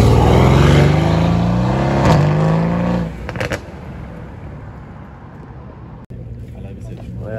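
A car at a Paris supercar meet accelerates hard nearby, its engine note rising and then fading as it moves off, with a steady hum of crowd and traffic behind it.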